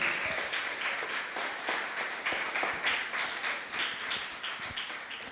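A church congregation claps together in sustained, dense applause that carries evenly, with no speech over it.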